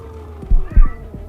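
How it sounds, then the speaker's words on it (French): Cat gives a couple of short, low meows close by, brief and moderately loud over a steady low hum. "Un chat. Ce n'est qu'un chat."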